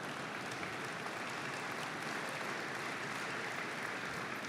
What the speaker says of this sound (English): Do I hear my children applauding?